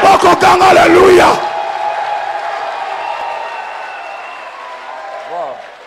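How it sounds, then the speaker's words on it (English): Church congregation clapping and calling out together over loud, dense rhythmic claps during worship, ending abruptly after about a second, leaving a low hum of room noise with faint distant voices. "Clap your hand"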